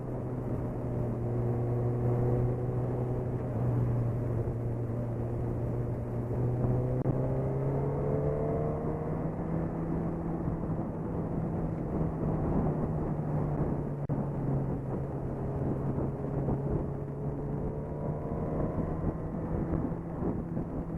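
A Suzuki GSX-R 1000 motorcycle at a demo ride event accelerates while ridden, its engine note climbing through the revs in repeated sweeps over a steady, close drone.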